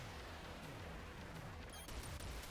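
Rapid gunfire crackles nonstop in a space shooter game, a dense barrage of electronic shots over a rumbling low-end score, with laser-like chirps and a louder burst near the end.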